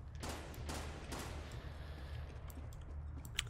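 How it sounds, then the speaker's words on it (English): A burst of distant gunfire from a Fortnite Battle Royale match, several rapid shots cracking in a cluster near the start and then fading into faint background noise, with no talking. "Yeah, I hear gunshots."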